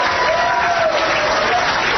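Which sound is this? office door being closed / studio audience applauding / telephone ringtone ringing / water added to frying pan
studio audience applauding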